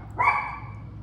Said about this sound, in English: I need to go grab my dogs from the patio because I'm sure somebody's about to yell at them because they've been barking for a minute